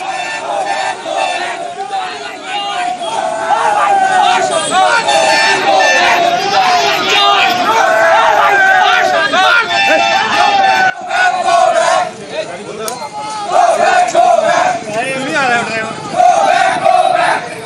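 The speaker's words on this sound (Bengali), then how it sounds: "তৃণমূল কংগ্রেস কর্মীদের গো ব্যাক স্লোগান নিখিল রঞ্জন দের উদ্দেশ্যে, দেখুন" A crowd of Trinamool Congress supporters chants 'go back' slogans loudly and continuously at MLA Nikhil Ranjan Dey, many voices shouting together in a dense, rhythmic roar with brief dips.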